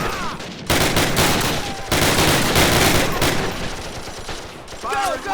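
Heavy gunfire in the Call of Duty video game, Battle of the Bulge setting: dense rapid bursts of machine-gun and rifle fire in loud sustained volleys, with brief lulls and a voice shouting over the shooting.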